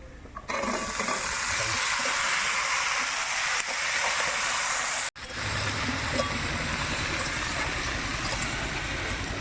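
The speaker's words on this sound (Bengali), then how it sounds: "লঙ্কা তেজপাতা আর গোটা জিরে একসঙ্গে ফোড়নে দিচ্ছি ধুয়ে রাখা আলু" Whole dried chillies, bay leaf, whole cumin and washed potatoes hit hot oil, producing a loud, steady sizzle that runs continuously with one brief break midway.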